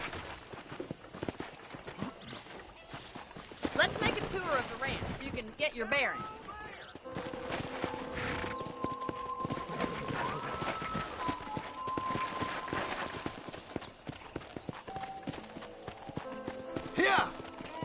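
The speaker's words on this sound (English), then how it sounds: "let's see if you can still ride a horse" A ridden horse trots across a ranch in the Red Dead Redemption video game, its hooves making steady, fairly close clip-clop beats as a character talks over them.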